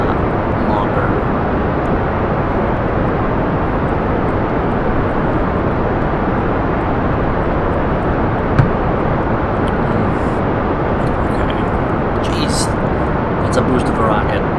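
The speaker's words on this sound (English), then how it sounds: "A boost of a rocket." A rocket in Kerbal Space Program roars with a steady, broadband thrust that stays loud and unbroken for the whole stretch, resembling a jet engine drone with no clear pauses.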